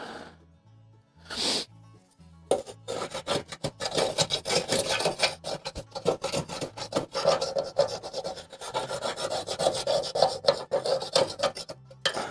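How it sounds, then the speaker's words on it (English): Metal scraper rasping buildup and crud out of a wood pellet stove's burn pot, with a short scrape at first and then long, continuous, rapid scratching strokes, close up and loud, with no talking. "you're going to want to start to scrape out the burn pot"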